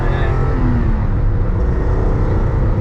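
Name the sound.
car with flat-six engine accelerating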